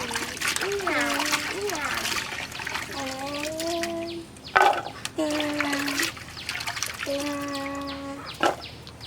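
Cut shrimp washed in a bowl of water for a Bangladeshi curry, with repeated splashes and trickling close by under ongoing talk.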